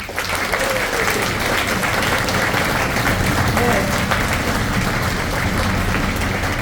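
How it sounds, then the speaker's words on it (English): Steady, loud audience applause for the bass section of a choir, a dense wash of clapping that holds at full strength throughout without pause. "We're going to clap for you one more time."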